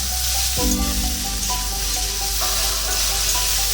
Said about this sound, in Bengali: তো গ্যাসটা অল্প সিম করে দেবো দিয়ে এগুলোকে ভাজতে থাকবো